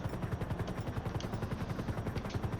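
Helicopter in GTA V, a steady rotor chop pulsing rhythmically throughout with a dense low-end thrum and no talk over it.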